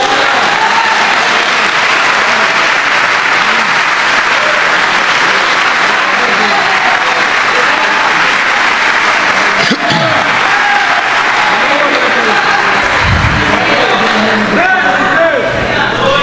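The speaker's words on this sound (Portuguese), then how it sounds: "Você pode aplaudir a Jesus?" A church congregation applauds steadily and loudly throughout, a dense wash of clapping with some crowd noise, and a low rumble briefly rises near the end.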